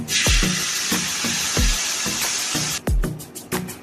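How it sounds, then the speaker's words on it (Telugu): Tamarind juice poured into hot oil in a pan sizzles loudly and steadily, with repeated low thuds of a ladle or pan stirring beneath the hiss before a brief pause and a renewed crackle. "ఇప్పుడు మళ్ళీ అదే పాన్లో కొంచెం ఆయిల్ వేసి చింతపండు రసం"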